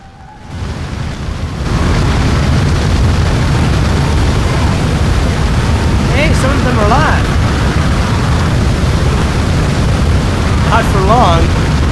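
A large fire burns steadily in a prison in Prison Architect, a dense, loud roaring rush that swells in after the first two seconds and holds continuously, with brief tonal squeals breaking through.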